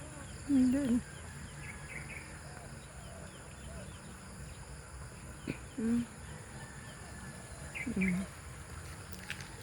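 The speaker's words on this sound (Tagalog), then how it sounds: "Tingnan mo yung mga manok ko." Short clucking calls from chickens at moderate distance, three brief bursts spaced apart over a steady outdoor background hum.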